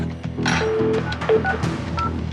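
A telephone being dialed, a quick series of distinct keypad tones in an irregular rhythm, close and clear against a faint room background.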